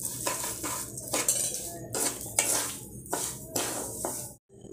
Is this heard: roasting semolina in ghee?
yes